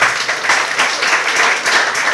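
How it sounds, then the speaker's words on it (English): Students at Our Lady of Africa secondary school in Namilyango clap for a classmate, a brief, even burst of applause filling the hall. "Please clap for Otto."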